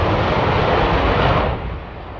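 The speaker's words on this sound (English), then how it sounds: "it has just completed its last engine run before being dismantled to go to Elvington" Avro Shackleton piston-engined aircraft on a final ground engine run before dismantling, a loud, steady broadband roar that drops a little in level near the end, with no talk.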